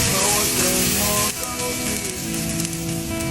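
Boiling water hits a hot pan of fried pork ribs, giving a loud, dense hiss and sizzle that dips briefly and then carries on steadily up close.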